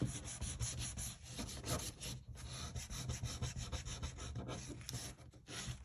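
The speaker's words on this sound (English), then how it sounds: "Burnish it." Steady back-and-forth rubbing as paper pieces are burnished onto a linen file folder, a dense, continuous scraping texture with brief pauses, close and fairly loud, no voices.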